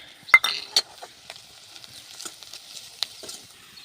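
Onion, garlic and home spices hit hot oil in a kadhai for a tadka before boiled rajma goes in, giving a soft sizzle with scattered spoon stirs and clinks, louder bursts near the start, no talk.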